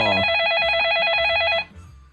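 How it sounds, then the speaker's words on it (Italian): A telephone rings for an incoming call on a live Italian radio broadcast, a loud warbling electronic trill lasting about a second and a half before cutting off abruptly. "abbiamo una telefonata improvvisa in onda"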